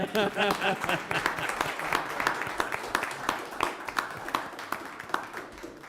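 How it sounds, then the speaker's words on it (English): Applause at a city commission meeting, many hands clapping in a steady patter, with a brief voice at the start and scattered sharper claps as it thins toward the end. "We'll give you a round of applause."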